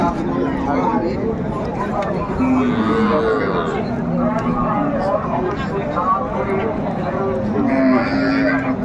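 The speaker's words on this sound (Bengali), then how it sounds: "শাহিওয়াল গাভী বাছুর আমরা দেখছিলাম বেশ" Sahiwal cows low now and then amid a busy crowd at the Raniganj cattle market, their moos mixing with steady chatter and people talking nearby.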